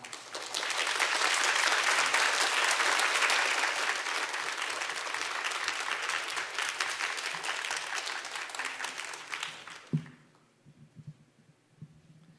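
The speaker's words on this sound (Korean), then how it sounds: "여러분 큰 박수로 환영해 주시면 감사하겠습니다" A church congregation applauds to welcome a pastor at a Wednesday worship service, broad steady clapping that swells then fades out around ten seconds, followed by quiet room noise and faint movement.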